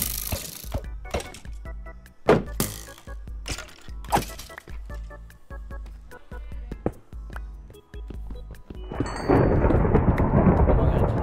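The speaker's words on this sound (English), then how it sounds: "Let's go, thunderstorm." Thunderstorm in the video game Minecraft: a run of loud, sharp thunder cracks and booms repeating every second or so, then giving way to a steady roar of heavy rain.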